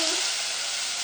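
Shrimp fry in a hot pan, giving off a continuous close, loud sizzling hiss with no pauses.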